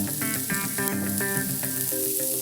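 Tuna sears in hot oil on a teppanyaki griddle with a loud, steady sizzle, under a layer of sustained musical tones.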